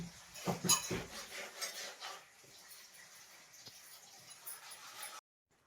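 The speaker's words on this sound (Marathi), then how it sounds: "पीठ मिक्स करून घ्यायचंय चांगलं ह्याच्यामध्ये गाठी जे झालेले आहेत ते फोडून घ्यायचे" Batter for sweet vadas mixed by hand in a bowl to break up lumps, a brief flurry of close clinking and scraping against the bowl, then quieter soft stirring before it stops abruptly.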